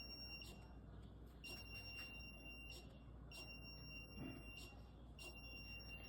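An Arduino buzzer, triggered by an ultrasonic sensor as the object backs away, gives faint, high, shrill electronic beeps in a short, uneven run of pulses over a steady tone and low background hum.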